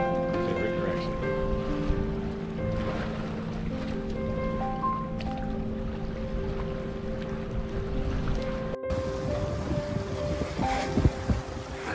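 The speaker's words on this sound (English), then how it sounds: "Nice wind." Steady wind noise while sailing a Catalina 30 sailboat on Lake Pend Oreille near Buttonhook Cove, with a continuous rush of air over the microphone, water sounds beneath it and a brief dropout near the end.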